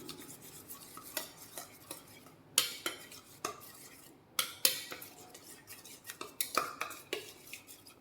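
Sauce ingredients for Chaoshan steamed dumpling fillings are stirred in a bowl until evenly mixed, giving repeated clinking scrapes of a utensil against the dish, some sharper clacks standing out, close and fairly quiet with no talking.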